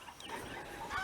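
Backyard garden chickens near a dust bath give a short burst of soft, faint clucking.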